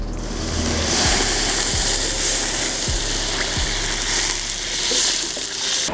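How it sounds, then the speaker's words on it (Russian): Four litres of cold water poured into a kazan over stewed soup base, a steady broadband rush and splash running the whole time, close and loud, with a few low thumps along the way. "Добавляем литра 4 холодной воды."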